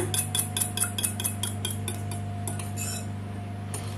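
Cream and milk quiche filling whisked in a bowl, steady rhythmic clinking and scraping of a utensil against the bowl over a constant low hum, no talking.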